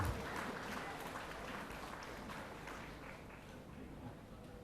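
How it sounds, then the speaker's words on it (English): An audience at a college graduation ceremony gives a faint, distant round of applause, a dense even patter that slowly fades over a few seconds. "Please give them a loud applause."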